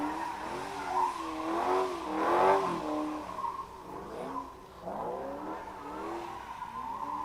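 A Cadillac CTS-V at a race track during a test-and-tune day revs and accelerates, its engine note rising and falling across several pulls at moderate distance, with no talk over it.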